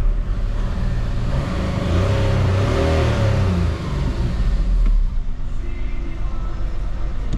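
A VW Polo 1.4 TDI diesel fitted with upgraded 1.9 injectors revs loudly and close by, its engine note holding at a strong steady roar before easing back to a rough idle.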